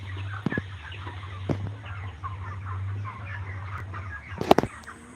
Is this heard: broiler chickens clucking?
yes